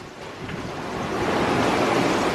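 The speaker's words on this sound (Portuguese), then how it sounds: "Está surfando as ondas nove nós." A sailboat surfs ocean waves at nine knots, a broad rush of water and wind building steadily louder close around the hull, with no talking.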